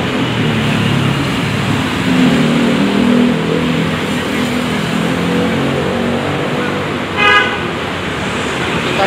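Dense road traffic in a Jakarta traffic jam hums steadily, with engines idling and a car horn honking briefly near the end, no talk.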